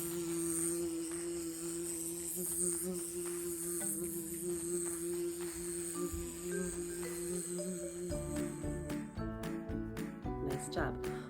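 Children in a kids' yoga class buzzing like bees, with voices imitating the sound in a sustained droning hum, joined later by scattered higher voices and short broken tones.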